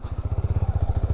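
Honda CB300R motorcycle riding slowly in first gear over loose river sand, its engine giving a steady, rapid low thumping pulse at close range with no talk.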